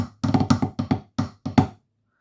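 Drum pad strokes of the Illawalla section from a marine bagpipe-band snare solo: a short run of dry, crisp taps in uneven clusters, close and moderately loud, ending in silence.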